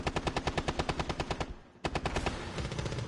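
Automatic gunfire in Rainbow Six Siege: a rapid, evenly spaced burst of loud shots, a short lull, then another sharp volley that trails into continued firing.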